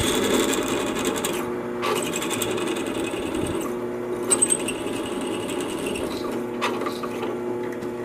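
A drill enlarges a hole to 3/16 inch, running as a steady, close mechanical whir for several seconds, broken by brief dips and a few small clicks.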